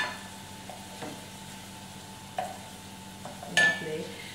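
Garlic cloves sizzle softly in a pan for a butter bean stew, broken by a few sharp clicks and scrapes of a utensil stirring, the loudest near the end.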